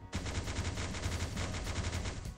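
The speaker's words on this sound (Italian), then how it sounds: "Si tratta del risonatore, un cannone Gauss top secret del progetto Genesi." Resonator Gauss cannon firing in the survival video game Last Day on Earth: Survival, a rapid, sustained burst of dense repeated shots for about two seconds, loud and continuous with no talking.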